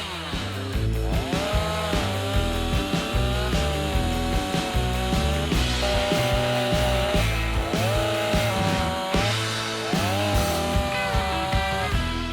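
A STIHL MS 182 petrol chainsaw with a 40 cm Light 04 guide bar and 61 PS3 Pro chain cutting through wood, the engine revving loud and close with repeated rising bursts as it bites into the cut.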